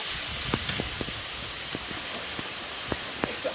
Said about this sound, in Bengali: একটু রসুন বাটা দিলাম তেলে